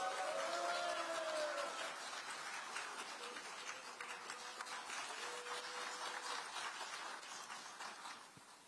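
An outdoor rally crowd at a gathering urging that the May 18 spirit be added to the constitution claps steadily in sustained applause to welcome a speaker, with a voice over the start.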